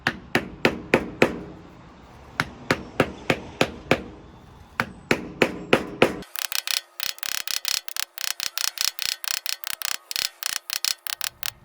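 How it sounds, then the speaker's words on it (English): A hammer packs blacktop repair patch into a large driveway gap, striking in a quick, steady series of sharp, close knocks with a few short pauses between bursts. "I'll use a hammer to pack it in there."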